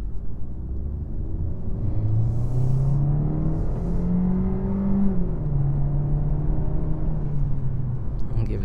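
A 2022 Kia K5 LXS sedan accelerating, heard from the cabin as a smooth, steady engine hum and rising whir with road rumble, moderate in level, with no talk over it.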